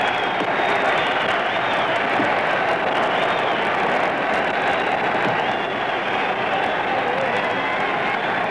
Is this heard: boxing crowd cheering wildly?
yes